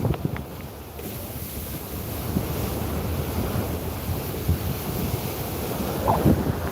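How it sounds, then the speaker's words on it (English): Waves break against breakwaters on an Istanbul waterfront in the morning, a continuous loud wash of surf heavily mixed with wind buffeting the microphone. "look at the waves breaking against the breakwaters"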